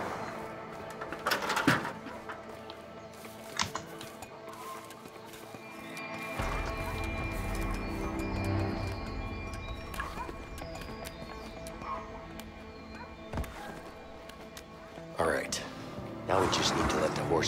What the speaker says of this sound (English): We should probably release the horses first.